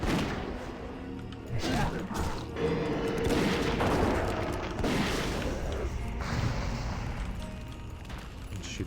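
A dwarf hunter's gun fires in World of Warcraft Classic amid combat, with repeated sharp shots and booms over a busy, noisy mix of battle effects, fairly loud throughout.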